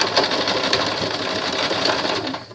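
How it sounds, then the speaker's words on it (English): Sewing machine stitching quickly forward and then backward over fabric to lock a seam, a close, continuous whirring rattle with a rapid needle patter, steady throughout and alone. "I'm just going to give it a quick sew forward and a quick sew backward"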